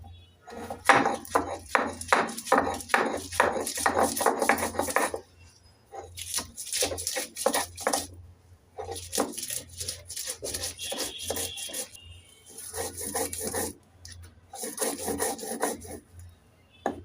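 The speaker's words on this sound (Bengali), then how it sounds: "আদা আর চারটে কাঁচা লঙ্কা নিয়েছি এইগুলোকে বেটে নেব একটু জল দিয়ে বেটে নেব" Ginger and four green chillies being ground by hand on a stone with a little water, a steady run of rough rasping strokes in bursts with short pauses, close and fairly loud, no voices.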